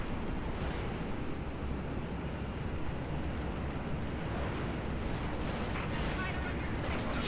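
Dense, continuous gunfire and explosions while fighting Banshee aircraft in the video game Halo Reach campaign, loud and sustained with no pauses.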